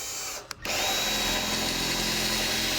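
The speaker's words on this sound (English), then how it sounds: "just drill through." A power drill boring a pilot hole, a brief pause and then a loud continuous whine of the motor held close and steady.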